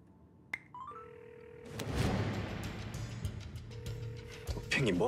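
A telephone ringing as a steady electronic tone that starts, pauses and resumes amid loud dramatic background sound and a burst of noise, with faint voices in the mix.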